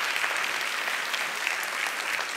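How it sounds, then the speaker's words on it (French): Audience at a women's tech event in a hall applauding: dense, steady clapping from a large crowd, continuous and even throughout, with no speech over it. "Et là, ça s'applaudit vraiment"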